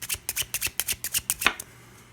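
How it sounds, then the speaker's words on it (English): A deck of 18 playing cards for a board game is shuffled up close, giving a quick run of about a dozen crisp rhythmic riffles that end abruptly in quiet. "So, we start the game by shuffling up this deck of 18 cards."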